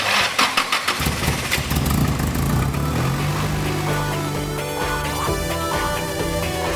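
A drift car's engine cranks with a short burst of starter pulses, then catches and settles into a steady, loud idle right after an oil change.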